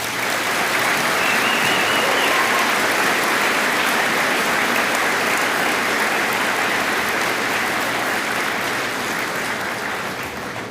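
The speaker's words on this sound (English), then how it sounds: "So please join me in giving them all a well-deserved round of applause." Graduation ceremony audience applause, a loud, sustained wash of many hands clapping at once, dense and steady throughout with a slight taper near the end.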